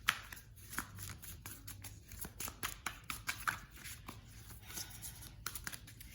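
Tarot cards being shuffled by hand close up: quiet, crisp riffling and slapping in irregular bursts, with soft card flicks scattered over a low hum and no speech.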